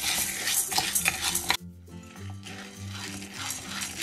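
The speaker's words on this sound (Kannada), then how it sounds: "ಈಗ ಬೇಳೆಗಳನ್ನು ಹುರ್ಕೋಣ ನೋಡಿ 1 ಗ್ಲಾಸ್ ನಷ್ಟು ಕಡಲೆಬೇಳೆನ ಹಾಕೋಣ" Chana dal roasting in a heavy-bottomed pan over a medium flame, with a near, steady scraping and stirring clatter of utensil against metal and a faint dry rattle of lentils, no voices.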